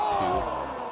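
A crowd at a women's disc golf tournament lets out a short burst of cheering and whooping, loud and close, with voices shouting over it.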